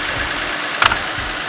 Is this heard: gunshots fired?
no